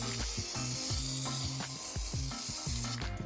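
PJ1 spray oil being sprayed onto a motorcycle air filter for a CR85R dirt bike build, a steady hiss of aerosol spray with some rhythmic mechanical rattling underneath, continuous and close.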